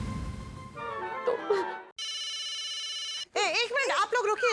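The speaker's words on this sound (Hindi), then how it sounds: "1 मिनट आप लोग रुकिए, तारक का फोन है।" A telephone rings in a steady electronic trill for over a second, set between stretches of people talking and background sound in a domestic comedy scene.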